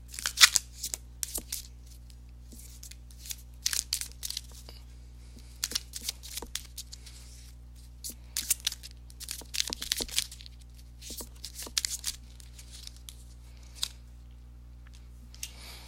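Chakra cards being shuffled and drawn during a love tarot-style reading, giving soft intermittent papery riffles and flicks in short bursts over a steady low hum, close and fairly quiet.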